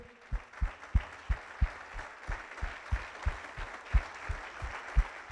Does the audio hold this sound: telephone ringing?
no